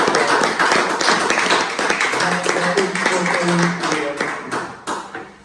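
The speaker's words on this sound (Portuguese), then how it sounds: "eu queria pedir à plateia uma salva de palmas" Studio audience clapping in a small talk-show setting, a dense patter of hands with tonal background sounds and voices mixed in, fading slightly toward the end.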